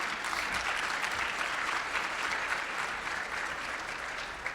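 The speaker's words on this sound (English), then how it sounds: "so we applaud you." Dense, steady applause from a gala audience fills the room, sustained clapping from many hands at an even level throughout without a break.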